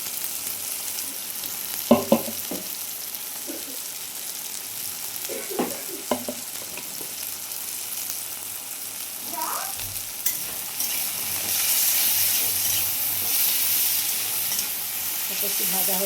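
Chopped onion frying in a pan with salt, a steady sizzle and hiss under a few sharp scrapes and clatters of a spatula stirring, the sizzle swelling louder toward the end.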